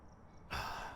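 A Deogen ghost in Phasmophobia gives a single breathy exhale through the spirit box: brief quiet static, then one loud, airy sigh-like breath that fades.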